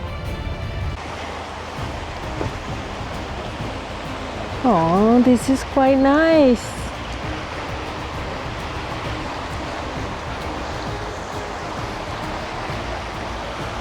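Steady broadband rush of a creek flowing beside a trail in Southern Utah, continuing throughout with a brief spoken remark partway through.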